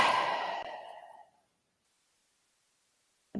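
A long, steady exhale blown out during a calming breathing exercise, soft and close, fading away over about a second before a brief quiet gap.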